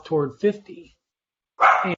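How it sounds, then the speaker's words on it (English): A pet dog barks indoors, a short loud bark breaking in after a person's speech during a community meeting call. "sorry, that's my dog."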